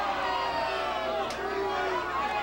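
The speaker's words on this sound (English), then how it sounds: "These guys are booing because they're excited to get outside" Studio audience booing during a talk show, a steady loud crowd roar of sustained voices with someone talking over it.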